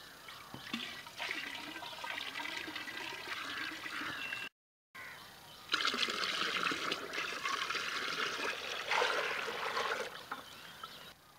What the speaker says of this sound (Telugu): ఇప్పుడు ఈ 100 లీటర్ల నీటిలోనూ ఈ 6 లీటర్ల మజ్జిగ పులయబెట్టిన మజ్జిగ పోయాలన్నా